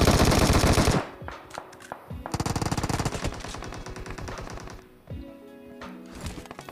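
Rapid automatic gunfire from PUBG Mobile on the Livik map crackles in loud sustained bursts, with several pauses and shorter volleys between them, and no talk.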